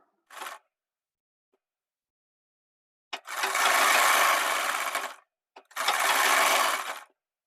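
A sewing machine stitching a Naira-style kurti runs in two sustained whirring bursts after a short initial blip, loud and close with quiet pauses in between.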